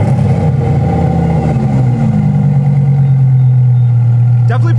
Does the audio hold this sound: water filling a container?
no